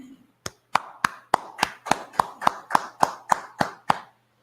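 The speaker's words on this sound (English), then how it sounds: "clap it up, clap it up, clap it up" Hands clap sharply and evenly, about a dozen close, crisp claps in a steady rhythm before stopping.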